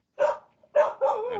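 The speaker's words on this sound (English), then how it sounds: "sorry, the dog is barking" A dog barks twice in short, loud bursts close by, the second bark running into a drawn-out whine, with no talking over it.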